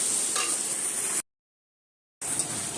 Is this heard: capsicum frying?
yes